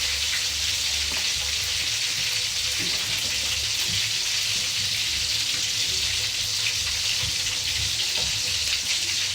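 Prawns fry in a pan with a loud, continuous sizzle and crackle of hot oil close up, with occasional faint clinks and no talking.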